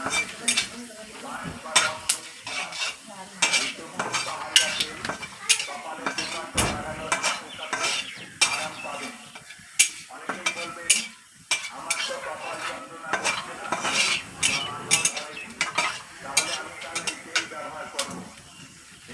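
Whole cumin and five-spice seeds fry in a pan while a utensil stirs and scrapes repeatedly against the metal, the clinks rhythmic over a steady sizzle, with faint talk in places.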